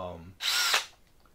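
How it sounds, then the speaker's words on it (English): A voice trails off, then a DeWalt 20-volt cordless drill whirs in a short, close, high-pitched burst that spins down quickly. "the drill I use is a wonderful tool. It's the DeWalt 20 volt"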